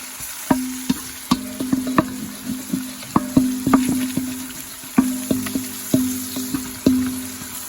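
Garlic and the white part of spring onion sizzle in hot oil for fried rice, with repeated sharp scrapes and taps of a spatula stirring the pan in an irregular rhythm, close and fairly loud, with no talk.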